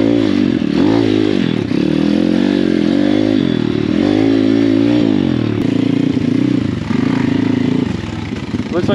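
Apollo RFZ 150cc engine-swapped pit bike ridden off-road through mud and snow, its engine loud and close, rising and falling in pitch with each throttle blip and gear change over a steady rough drone.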